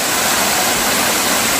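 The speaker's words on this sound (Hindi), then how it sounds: "अभी सिर से ही पानी गिर रहा है" Water pours from the top of Siddha Khol waterfall near Kasdol, a steady, dense roar with no breaks, loud and close, heard alone.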